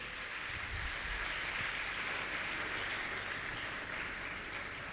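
Audience at a Jain religious gathering clapping in honour of a guest, a faint, even wash of applause heard from a distance with a low rumble beneath it.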